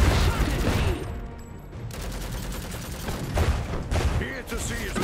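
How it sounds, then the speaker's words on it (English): Gunfire in the Iron Harvest strategy game, a dense burst of rapid shots up front, then scattered cracks and a few louder bangs over a continuous battle din, with faint voices underneath. "Someone just shot at me!"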